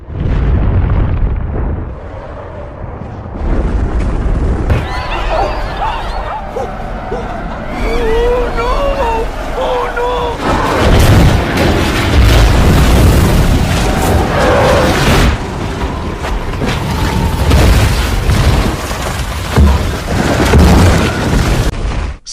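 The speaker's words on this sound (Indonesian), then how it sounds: "Karena banyak ledakan, salju di gunung itu longsor." Deep booming film explosions and a heavy, sustained rumble of a mountain snow avalanche, loud and continuous, with shouting voices and chaotic noise mixed in.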